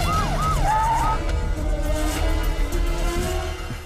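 An ambulance siren wails in a film scene, its rising-and-falling tones sweeping briefly at first and then fading into a steady low rumble of traffic.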